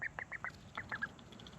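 Ducks quack in a quick series of short, nasal calls while being fed chopped betel leaf, close by and fairly clear over a low outdoor background.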